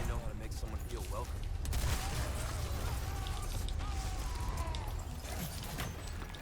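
Dense Resident Evil 4 gunfire, with repeated sharp shots and bangs scattered through a loud, busy game mix, under a voice speaking throughout.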